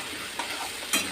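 Potatoes frying in a hot pan with a little sugar, stirred by hand: a steady soft sizzle with scraping strokes, including one louder scrape at the end.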